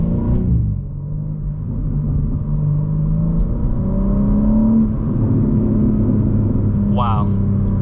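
A BMW M3 with an upgraded IRL midpipe and AA downpipes exhaust rumbles and revs through gear changes, heard from inside the cabin as a steady droning engine note with a rising whine, under continuous talk.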